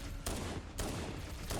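Gunfire in Halo: Combat Evolved comes in three sharp bursts with rapid shots spaced about half a second apart, fairly faint under a continuous noisy game background.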